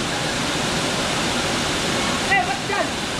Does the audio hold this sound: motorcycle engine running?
no